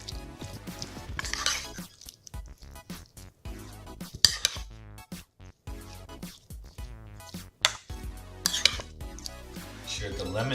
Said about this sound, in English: I'm gonna show you how to stir that all up next. Go ahead and stir that up.